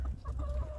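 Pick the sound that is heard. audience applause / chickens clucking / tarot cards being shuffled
chickens clucking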